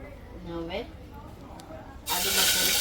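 Asafoetida (hing) dropped into hot oil, a loud broad hiss of sizzling that bursts in near the end, following a stretch of quieter background with a voice talking over it.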